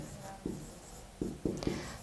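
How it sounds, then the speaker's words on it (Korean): A few short, faint scratchy strokes of writing on a lecture board, three or four quick marks in a quiet room. "도파민 써볼게요."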